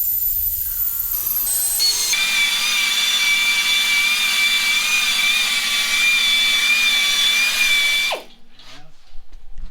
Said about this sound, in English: So we're gonna go a little bit bigger ball hone and see if we can get that to clean up a little bit better.